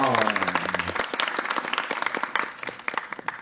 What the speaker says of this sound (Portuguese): Salve de palmas para Isabelle, pessoal!